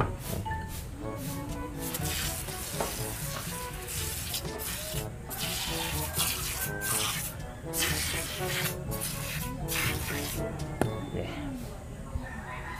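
Koby wheel cleaner sprayed onto a car wheel: repeated short hissing spray bursts with scattered clicks, close and fairly quiet under a steady background hum, while someone talks over it.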